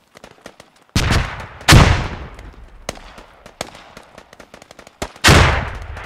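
Gunfire in the military shooter Squad, with several loud close shots and booming reports that echo and decay, separated by fainter distant pops.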